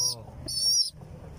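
Young pigeon chicks give two short, high, thin calls in a loft, with faint low background noise between and after them.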